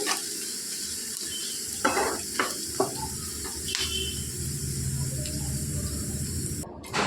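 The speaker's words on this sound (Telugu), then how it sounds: "అదే ఆయిల్లోనికి ఇట్లాగా ఉల్లిపాయలు అనేవి ఇలా పొడవుగా కట్ చేసుకొని వేయించుకోవాలి" Long-cut sliced onions frying in oil make a steady, close sizzle, with a few light clinks of stirring against the pan.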